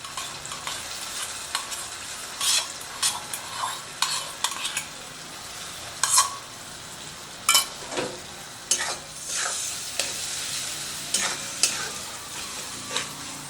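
Onions stirred with whisked yogurt in a pan, a quiet sizzle broken by repeated scraping strokes of a spoon at an uneven rhythm.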